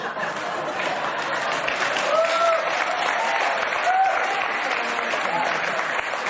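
Audience applause, a steady wash of many hands clapping at moderate loudness, with faint murmurs and a few brief tonal squeaks in the background, continuing evenly throughout.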